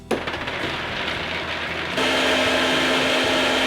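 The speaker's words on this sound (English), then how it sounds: "One last thing I almost forgot to add to the tomato sauce is a little bit of agave nectar. Let's blend this up." A high-speed blender whirs loudly through a vegan lasagna tomato sauce with agave nectar, starting abruptly and shifting to a steadier, higher-pitched spin partway through, with no talking.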